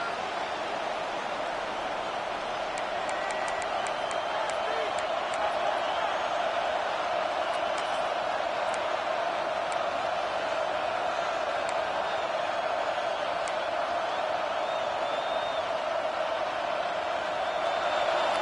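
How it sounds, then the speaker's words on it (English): Roaring stadium crowd at a college football game in NCAA 26, a dense, steady wall of cheering and noise that holds at high intensity, with play-by-play commentary over it. "this crowd is at fever pitch"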